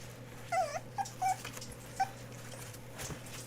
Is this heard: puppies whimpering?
yes